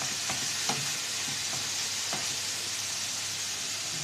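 Minced beef with a little fat fries in a pan for keema, producing a dense, even sizzle while a spatula stirs it with a few light scraping taps, and no one speaks.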